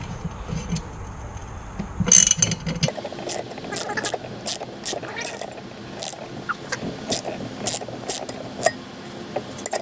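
A ratcheting wrench turns a bolt under the hood of a 2010 Cadillac CTS during a custom intake install, giving a run of quick, close metallic clicks and ratchet chatter over rattling handling noise.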